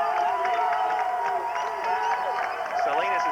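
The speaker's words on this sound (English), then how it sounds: "You can hear the crowd." Fans at a 1996 high school football game between the Texas City Stings and the Silsbee Tigers roar on and on, a dense wash of cheering and shouting voices from the stands.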